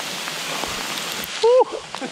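Steady rain patters continuously during a canoe trip in Värmland, Sweden, with a voice briefly speaking over the downpour.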